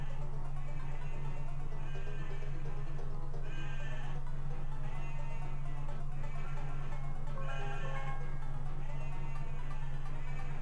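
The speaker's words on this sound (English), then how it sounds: "the black sheep seem to just be putting themselves in" Sheep bleating on a cartoon farm, repeated calls over a steady low hum and a busy background of other animal and ambient noise.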